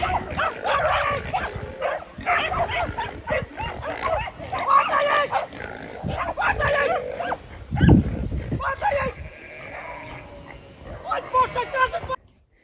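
Dogs bark and yip while attacking a pig on a homestead in Portugal, amid squealing and grunting from the pig, with a person talking over the commotion.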